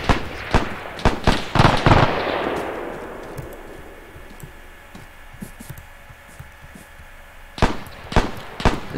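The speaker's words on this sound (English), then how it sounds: "There's a machine gun in that tower." Sharp gunshots crack out in the D-Day operation of a video game, with a big booming blast that slowly fades, then scattered single shots and a final cluster of reports, loud and fairly near.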